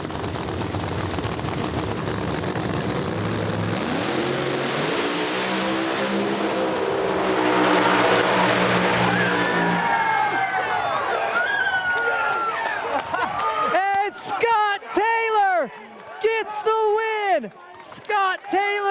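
Two drag racing cars roar through a no-prep final at US 131 Motorsports Park in Michigan, engines revving hard and loud for about ten seconds before fading, followed by a crowd cheering and a voice shouting.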